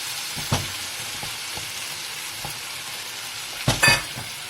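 Diced tomatoes sizzle steadily with chicken in a sauté pan while a spoon stirs, scraping and knocking against the pan in a few sharp bursts, loudest near the end, with no voices.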